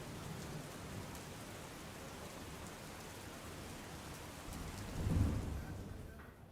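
Rain falls steadily in a soft, constant hiss over Mandvi in Kutch, Gujarat, and a low roll of thunder swells near the end before fading.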